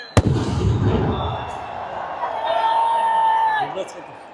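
Firecrackers and fireworks at a cricket stadium during a crowded political rally: a sharp bang opens, then crackling bursts and rising whistles over a constant crowd roar.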